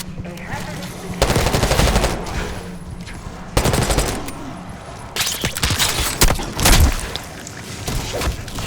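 Bursts of automatic gunfire in a Call of Duty Black Ops campaign mission, several loud rattling volleys separated by short pauses, with thuds and faint voices between them.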